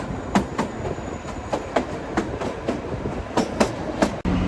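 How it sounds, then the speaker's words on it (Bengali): Kalka-Shimla narrow-gauge toy train rolling along with a steady clickety-clack of wheels over rail joints, regular beats about every half second, heard from inside the carriage with no talking. "এরকম টয় ট্রেনের জার্নি"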